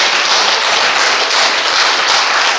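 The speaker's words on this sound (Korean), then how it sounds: "한가람 역사문화연구소 이덕희 소장님께 다시 한번 큰 박수 부탁드리겠습니다" Close, steady clapping from the audience at a history lecture forum, thanking the head of a Korean history and culture institute; a continuous wash of many hands with no pauses.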